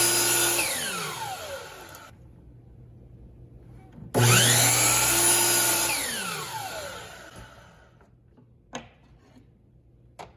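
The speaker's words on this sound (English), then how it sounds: "So we'll just go and chop that piece on the miter saw." Miter saw chopping a thin wooden strip of ukulele side kerfing: the motor spins up and whines, the blade bites through in a short cut, then the motor winds down, followed by a second start-up, cut and coast-down, close by.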